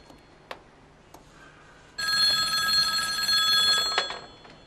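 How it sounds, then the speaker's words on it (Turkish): After a few soft knocks, an old-style phone bell rings out loudly in one sustained burst for about two seconds, then stops. "Telefon babacığım."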